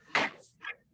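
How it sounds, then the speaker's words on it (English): A door being opened: a sharp close-by latch clack followed a moment later by a softer second knock, alone in a quiet room. "I'm going to open the door."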